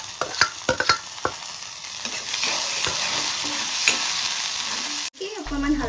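Tomato and capsicum sauté in a pan, opening with a few sharp clinks of a utensil against the pan before a steady, close sizzle with light stirring runs on, then a brief thump near the end.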